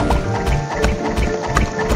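Horse hoofbeats clip-clop steadily in a dragon simulator video game, a continuous run of repeated hoof strikes at moderate loudness mixed with other game sounds.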